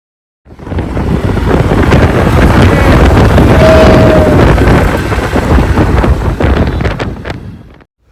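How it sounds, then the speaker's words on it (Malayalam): Heavy wind buffets the microphone while riding on an Uber bike taxi, a loud continuous rushing roar with traffic noise beneath that rises in after a short silence and fades away at the end. "നമ്മുടെ ഊബർ ബൈക്ക് എത്തി. അപ്പോൾ നമ്മൾ ജേണി സ്റ്റാർട്ട് ചെയ്തിരിക്കുന്നു."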